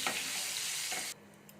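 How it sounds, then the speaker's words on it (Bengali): Potatoes fry in a covered pan with a loud, steady crackling sizzle that cuts off abruptly after about a second, leaving near quiet with a few faint clicks. "এটা ঢাকা দিয়ে একটু একটু ভাজবো"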